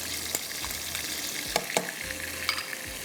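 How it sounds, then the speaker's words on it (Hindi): Spices with ginger and garlic fry in a pan, a steady soft sizzle with a few light scrapes and clicks of stirring, no voices. "इसको अब हमने मसाले को थोड़ा सा भूनना है।"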